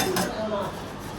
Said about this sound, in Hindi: बर्तन धोने पड़ रहे हैं